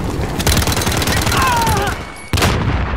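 Video game gunfire crackles in dense, rapid bursts of shots up close and loud, broken by a brief gap before the firing resumes.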